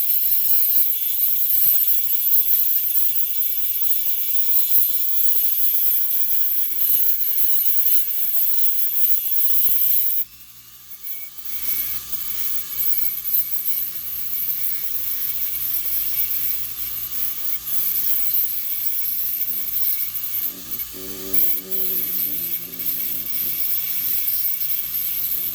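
Grinding on the shifter assembly bushings of a Mark IV VW Jetta gives a steady, high, whining grind throughout, dipping briefly midway before resuming, with no talking.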